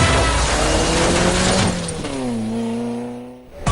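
Racing cars in the video game Rocket Cars roar and rev loudly, engine pitches sliding up and down as they accelerate and pass, with no talk.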